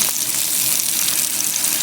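Tenderized, coated pork chops sizzle and fry in a hot pan as they caramelize, a dense steady crackling hiss up close with no pauses and no talk.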